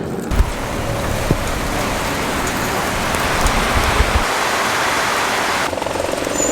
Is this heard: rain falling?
yes